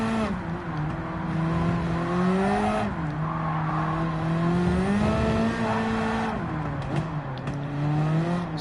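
A turbocharged 2025 British Touring Car with anti-lag, driven in Gran Turismo 7, roars loudly and steadily throughout, its engine pitch climbing and dropping sharply with each gear shift and throttle change.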